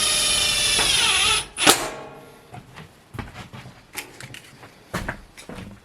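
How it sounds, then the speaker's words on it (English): A power drill driving screws into a wood stove's stovepipe support box in a tiny cabin gives a loud whirring burst, then scattered clunks and handling knocks. "throw some screws into where the top stovepipe attaches to the support box"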